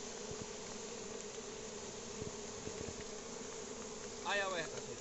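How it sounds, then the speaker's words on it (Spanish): Swarm of honeybees on a farm in the Dominican Republic droning in a dense, continuous buzz, with an occasional louder individual bee passing close near the end and a few faint knocks underneath. "Allá van enjambre"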